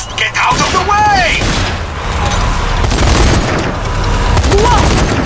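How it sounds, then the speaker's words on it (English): Boss in the zombie shooter Zombie Army 4 unleashing a charged, powerful shot: a loud, sustained roar of booming gunfire and blasts with rising whooshing tones, dense and continuous throughout. "He's charging another shot."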